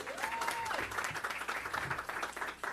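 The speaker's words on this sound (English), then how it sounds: "Give him another round of applause, everyone" A gathered crowd at a New York literacy event applauds a second-grade student, soft and somewhat distant clapping with a brief whistle-like tone near the start and murmuring voices beneath.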